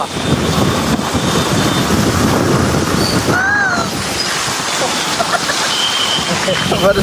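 Steady rain pours down outdoors, a dense continuous hiss filling the whole stretch, loud and close, with a brief tonal whine rising above it midway and faint voices underneath.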